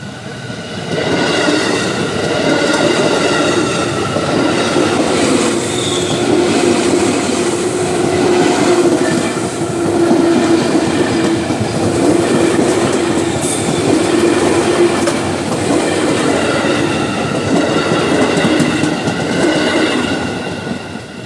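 A KRL Rangkasbitung commuter electric train runs on straight double track near Citeras station, a loud, close, sustained roar with clattering wheels and faint squeals lasting throughout, no voices.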